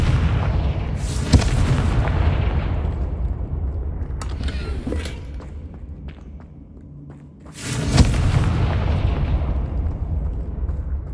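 Confringo spell explosions in the Hogwarts Legacy video game, two heavy booming blasts a few seconds apart with a rumbling wash between them, loud and close with no talking.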